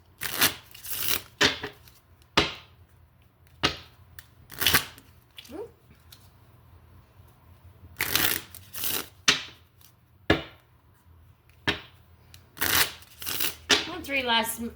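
Oracle cards shuffled by hand in repeated bursts of crisp riffling and slapping, close and fairly clear, with spoken voice heard between the bursts.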